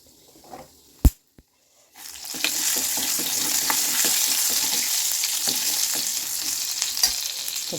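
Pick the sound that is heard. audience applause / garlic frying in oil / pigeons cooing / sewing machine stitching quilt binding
garlic frying in oil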